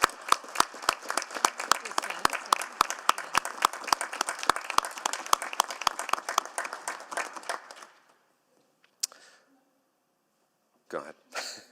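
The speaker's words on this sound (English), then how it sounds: "let's give them a big round of applause to start" An audience applauds to welcome guests, including a planner from Kumamoto Prefecture, at a city council meeting: dense, steady clapping for about eight seconds that breaks off, followed by a near-silent pause and a brief stir of room noise.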